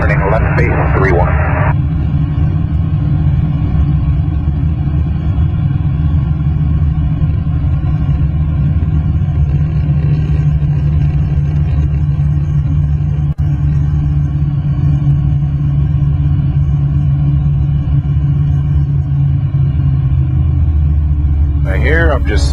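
A light aircraft's engine drones steadily inside the cockpit as the plane slows on approach to landing, a loud, constant low rumble filling the whole clip, with brief radio-like bursts at the start and end.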